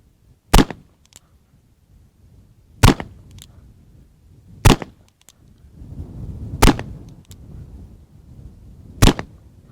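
Five sharp, loud .45 Schofield revolver shots cracking at a public outdoor range, spaced about two seconds apart, each with a brief ringing tail and quiet gaps between.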